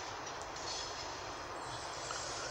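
A Swiss Re 460 locomotive train pulls in and halts at Weil am Rhein, giving a steady, loud rolling rumble with metallic wheel noise throughout and no talking.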